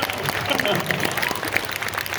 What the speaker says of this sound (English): please, let's applaud the